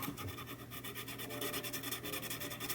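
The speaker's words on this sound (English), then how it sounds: "Now I will just take my 600 grit sandpaper, go between it there, and I'll go up" 600 grit sandpaper rubbing between the contacts of a 1974 Williams Star Action pinball ball count unit, a faint, continuous fine scraping close by with no voices.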